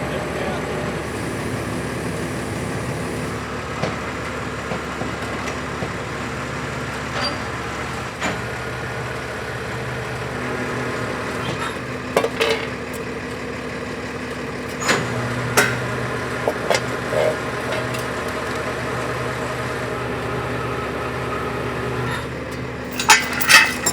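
A truck built for dropping septic tanks idles and rumbles steadily at a steep mountain job site, with occasional clanks and air-brake hisses, while people talk over it.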